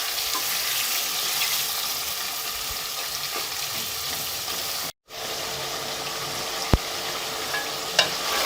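Mutton pieces frying in a karahi, a loud continuous sizzle and hiss close by, briefly cut off once midway, with a couple of sharp clinks near the end and no voices.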